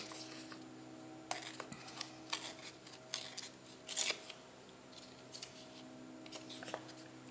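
Scissors trim a craft piece with a scattering of short, soft snips and clicks, irregularly spaced over a quiet room background, one sharper crunchy cut standing out.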